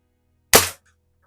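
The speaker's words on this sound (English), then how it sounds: "I'm gonna shoot those Plinking targets while we're sitting here still." A single sharp crack from a vintage Daisy 499B BB gun fired at plinking targets, close and alone, with a faint tick moments later.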